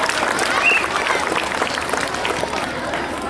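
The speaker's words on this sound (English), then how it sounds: "let's give our mascots a big round of applause" Outdoor crowd applauding parade mascots at a book float parade, a dense wash of clapping with some cheering, fairly close and steady throughout.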